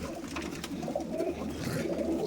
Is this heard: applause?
no